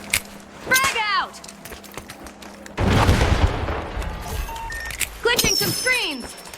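A frag grenade detonates in the video game The Finals, a heavy booming burst about midway through, surrounded by game sound effects and a voice speaking before and after.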